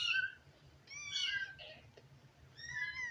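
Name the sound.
cats yowling outside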